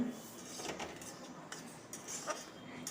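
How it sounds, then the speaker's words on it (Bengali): Semolina being stirred in a pan for sooji halwa, the spoon scraping and clinking against the metal in soft, irregular strokes that sound close but faint, with no talking. "সুজিটা দেওয়ার পর এরমভাবে সমানে নেড়ে যেতে হবে"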